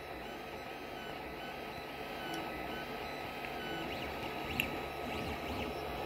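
A 3D printer works on a fursuit head base, its stepper motors whirring and chirping in soft, shifting tones over a steady low hum, faint and close.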